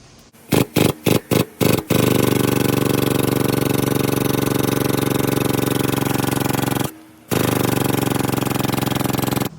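Air hose driving a pneumatic floor jack lifting a 2010-2013 Acura ZDX, a few short bursts followed by a loud steady mechanical drone that cuts out briefly and resumes, close, no talk.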